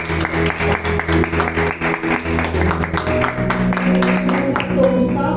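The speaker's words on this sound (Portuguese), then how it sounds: "As palmas de salve." A church congregation claps at a Wednesday evening worship service. The clapping is loud and rhythmic and blends with sustained musical tones and some voices in the room.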